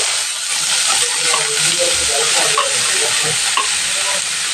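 Sliced onions sizzle and spit in hot oil in a pan while being stirred for Nagore-style prawn vada, a steady close hiss with occasional scraping and crackles.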